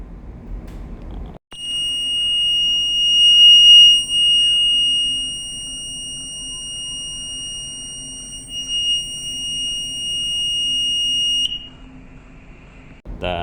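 A ship's steering gear phase fail alarm: a piercing, unbroken electronic beep on one high pitch for about ten seconds above droning machinery, then stops abruptly.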